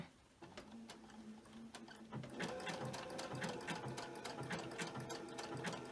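Embroidery sewing machine stitching a penguin and hen quilt block, running as a steady fast mechanical whir with rapid needle ticks that speeds up and holds a continuous rhythm, close and alone.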